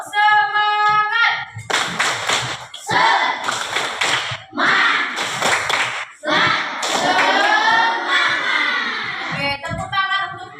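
A school class does a rhythmic spirited clapping ice breaker, bursts of many hands clapping in patterned beats with chanted voices between them, opening with a short sung note.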